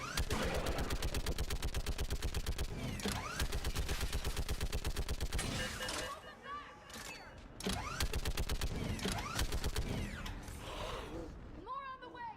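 A mounted gun in Mass Effect 3 fires in long rapid automatic bursts, loud and close, with brief pauses between volleys and faint voices under the racket.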